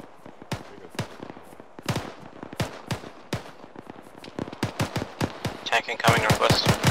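Gunfire in a close-contact firefight in a military video game: sharp single shots and quick bursts crack at irregular intervals, near and loud, with voices talking between them and a dense rattle of fire at the end.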